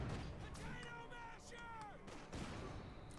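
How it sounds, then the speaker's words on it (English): Mortar fire in Company of Heroes 2 comes as sharp booming impacts, one near the start and one heavy blast after two seconds, each with a rumbling tail. Whistling tones and battle noise run underneath, with a commentator talking over them. "Mortar fire raining down though."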